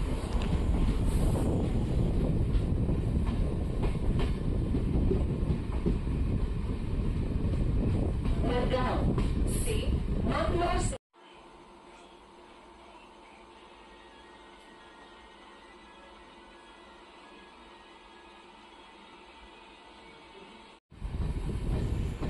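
A Konkan Railway passenger train rolls along after leaving Mulki, heard from on board as a loud roar of wheels and wind buffeting the microphone, then dropping to a quieter rattle and hum before the roar returns.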